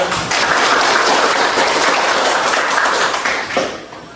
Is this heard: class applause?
yes